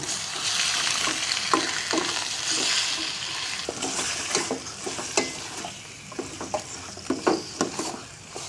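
Ingredients for adobo being sautéed in a pan, with a loud continuous frying sizzle and repeated scraping, stirring strokes of a utensil against the pan, close up and with no talking.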